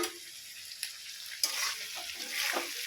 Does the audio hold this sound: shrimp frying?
yes